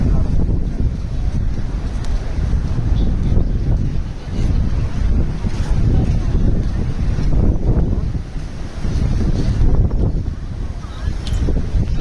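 Strong sea wind blows at the seaside Gita temple, buffeting the microphone in loud gusts over a constant rushing roar with surf-like swells, and no clear talk.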